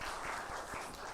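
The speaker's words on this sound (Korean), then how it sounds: "격려의 박수 하겠습니다" A chapel congregation at a university Thanksgiving service applauds the choir with steady, dense clapping that fills the room for a short burst, with no talking over it.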